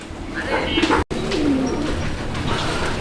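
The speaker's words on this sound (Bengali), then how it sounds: "কবুতরটা ডাকছিল আসলে পুরোটা দেখাইতে পারলাম না তো খুব সুন্দর করে ডাকে" A black Lahori pigeon gives a soft, rolling coo close by, heard alone over a steady background hiss with a brief dropout.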